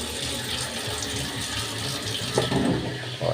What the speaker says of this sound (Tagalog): Ganda pala gripo niya.